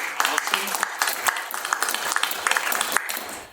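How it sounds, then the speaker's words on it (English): A crowd at a Republican gubernatorial candidate forum gives a round of applause, a steady patter of many hands clapping at moderate loudness for a few seconds. "give yourselves a round of applause"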